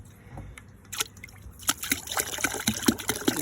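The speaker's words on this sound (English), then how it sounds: "Now I'm going to add too much chlorine because I added some yesterday" Liquid chlorine poured by the litre into a swimming pool, heard as close trickling and sloshing that starts soft and grows into a steady splashing pour over the last half.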